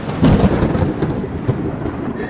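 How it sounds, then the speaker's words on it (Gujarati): A loud, close thunder rumble rolls and crackles for a couple of seconds as a sound effect in a comedy sketch, with no voices over it. "ગાજવીજ પણ બહુ થાય છે"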